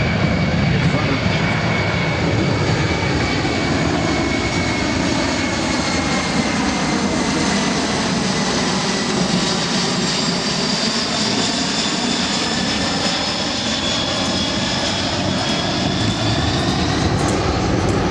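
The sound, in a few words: Boeing C-17 military transport jet flying a slow-speed pass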